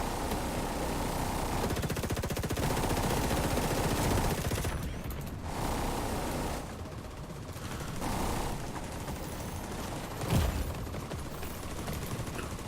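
Sustained bursts of automatic gunfire in a shooter video game, fired toward the player's character, dense and loud for most of the stretch with brief lulls and one sharp louder blast near the end.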